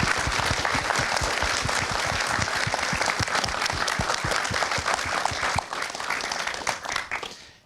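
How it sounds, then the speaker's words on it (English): An audience applauds game developers at a showcase event, a dense, steady wash of clapping that holds strong for several seconds before thinning out and fading near the end. "So please, a big round of applause for their expertise."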